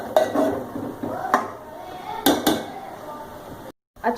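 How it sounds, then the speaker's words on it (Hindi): A spoon stirs Lucknowi galawati keema in a pot over a high flame, giving irregular metallic clinks and scrapes against the pot at a moderate, close level. "इसमें चम्मच चलाते रहेंगे, स्पून चलाते रहेंगे कि ये नीचे ना चिपके, जले ना"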